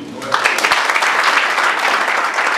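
An audience applauds at a visit and conference by a police general at an institute, a dense, steady burst of clapping from many hands filling the whole short stretch.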